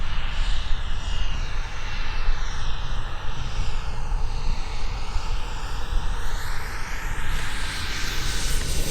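A Sebart Mini Avanti RC turbine jet, a model flying on its first turbine flights, roars loudly and steadily on landing approach with flaps down and a little power, its whooshing tone shifting slowly as it passes.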